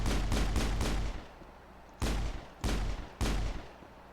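Gunfire in the video game Mass Effect: a rapid burst of three shots, a pause, then three more heavy single shots spaced about half a second apart, loud and close.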